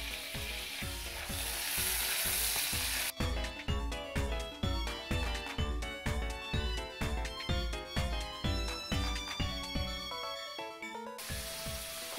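Six bacon slices fry in a pan with a steady crackling sizzle, loudest in the opening seconds and then running under rhythmic background music.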